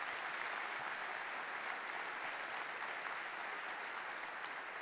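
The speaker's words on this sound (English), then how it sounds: "let's give them a round of applause" A crowd applauding steadily, a dense continuous patter of many hands clapping throughout, with no voices standing out.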